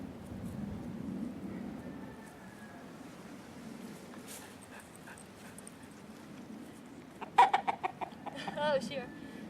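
Chickens cluck out on a trail run with a sled dog, faint low background rumble at first, then a brief burst of sharp, close clucking calls near the end.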